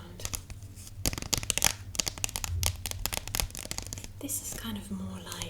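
Thin cardboard handled up close for ASMR, crinkling and scratching softly in uneven bursts over a few seconds, with a quiet voice in the background.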